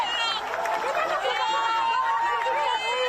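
Crowd cheering and shouting as a freed hostage is welcomed home in Israel, dense overlapping voices and whoops, loud and continuous.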